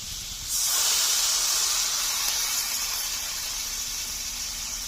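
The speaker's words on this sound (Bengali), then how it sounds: "এখন দিয়ে দেবো পরিমাণ মতো জল।" Water poured into a hot pan of rohu fish curry with pumpkin sets off a sudden loud steaming hiss that bursts in after half a second, then slowly fades while staying strong.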